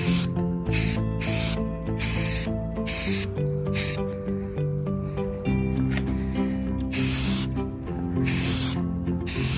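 Rust-Oleum primer sprayed onto a toilet seat in a series of hissing aerosol bursts, each a few seconds long, broken by short pauses, with steady background music playing under them.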